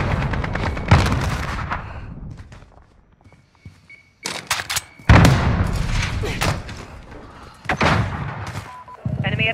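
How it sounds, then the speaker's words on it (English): Call of Duty Modern Warfare (2019) cruise missile strike: heavy booming blasts and thuds arrive in several bursts, loud and close, separated by brief quieter stretches, with radio-style voices talking over parts of it. "Cruise missile, go for launch."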